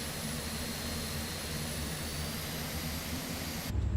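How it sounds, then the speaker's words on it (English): An airliner's engines in Microsoft Flight Simulator 2024 give a loud, steady jet roar with a high whine above it. The sound holds constant and cuts off abruptly near the end. "Now I hear the engine's actually powering up"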